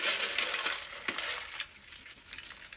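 Chicken feed is poured inside a greenhouse during an ice storm, making a loud rattling, crunchy spill of pellets with scattered sharp clicks that thin out toward the end, with no voices.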